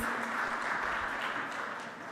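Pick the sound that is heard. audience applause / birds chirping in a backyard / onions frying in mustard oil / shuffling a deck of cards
audience applause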